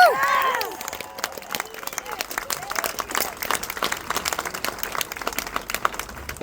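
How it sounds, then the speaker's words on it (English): An indoor crowd applauding at a political campaign office opening, a dense patter of clapping with a brief shout at the start, moderately near and steady. "give him a round of applause"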